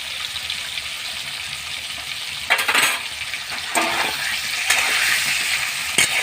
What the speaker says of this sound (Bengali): একটু হলুদ আর একটু নুন দিয়ে আমি আলুগুলোকে ভেজে নেব।